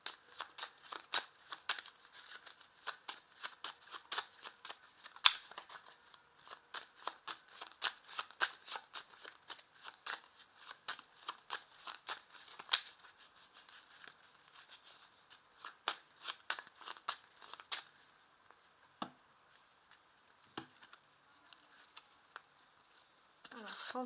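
Cartomancy playing cards from a 32-card deck are handled and shuffled close up in quick, crisp flicking and riffling bursts, then sparse soft card placements near the end.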